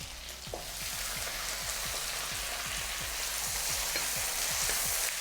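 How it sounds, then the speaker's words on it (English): Char koay teow being stir-fried with garlic and bean sprouts, a loud continuous sizzle with rhythmic spatula scrapes and clanks against the wok repeating through the whole stretch. "Give this a good stir, guys. Let's throw in the garlic."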